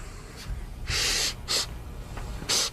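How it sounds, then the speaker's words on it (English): A person sniffs another person up and down, several sharp nasal inhales in a row, some short and some longer, close and fairly loud against a quiet room background. "Doing a full body sniff."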